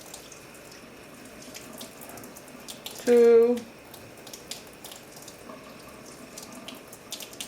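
A kitchen tap gushes for about half a second to fill a tablespoon with water for an egg-powder and oatmeal mixture, a loud, close burst standing alone in a quiet room where a voice counts.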